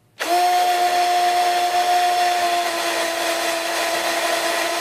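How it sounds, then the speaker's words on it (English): A Kimo 20V cordless drill boring with an auger bit whines steadily at one constant pitch after starting abruptly, loud and close, running without pause for several seconds. "Alright, let's drill through here and see what it can do."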